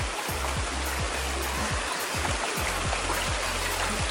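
Alkaline spring water runs steadily outdoors at a spring in Jamaica, a continuous close rushing and splashing wash with a low bubbling undertone and no voices.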